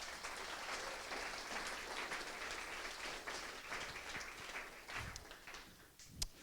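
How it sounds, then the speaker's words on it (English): Modest, quiet audience at a ReactJS Denver meetup applauding the evening's two speakers, a steady patter of many hands that continues for several seconds, then thins out with a few final claps. "Let's give them another round of applause real quick."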